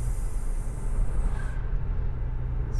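A Sumber Alam bus passing at night on a road, a loud low rumbling engine and road roar that holds steady before the hiss tapers off.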